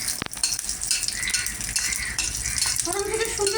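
Whole cumin and dried chilli tempering frying in oil, a steady crackling sizzle with spoon and pan rattles, close by.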